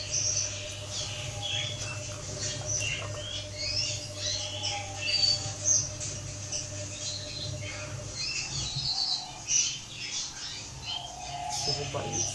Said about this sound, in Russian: Там еще птички кричат,